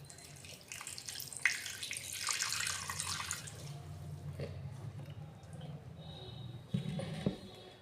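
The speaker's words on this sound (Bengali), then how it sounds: "এবার আমি আস্তে আস্তে জল দিয়ে মাখবো।" Water trickles and splashes into a bowl of flour as dough is mixed by hand, a soft running pour with light mixing noise and a few small knocks near the end.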